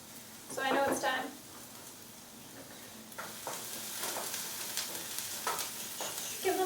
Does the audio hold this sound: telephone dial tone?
no